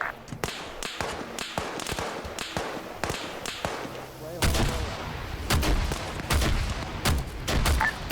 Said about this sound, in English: The dropping mortar's on us.